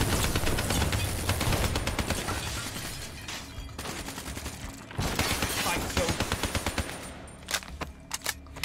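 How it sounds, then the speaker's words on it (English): Sustained automatic gunfire in the video game Black Ops 3, shots hitting a screen, loud dense bursts almost nonstop, then a few sharp separate shots near the end. "I shot that screen a few times"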